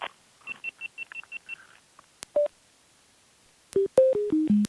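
Quiet electronic chirps at first, then a loud, close run of descending beeps, each tone lower than the last, as a GoPro camera powers off.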